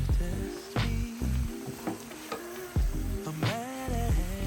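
Ground beef for tacos fries in a pan while being stirred, a close sizzle broken by repeated scraping and clattering strokes of the spoon against the pan.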